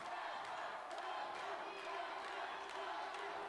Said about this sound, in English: you got the crowd is behind Hector chanting back here